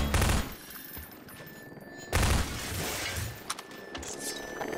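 Gunfire in Half-Life 2, two loud bursts of shots with a sustained ringing tail, separated by a gap of rumbling combat noise.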